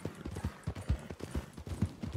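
Horse hooves clip-clop in the video game RedM, a steady fairly close run of soft thudding hoofbeats at a walking-to-trotting pace, with no voices over them.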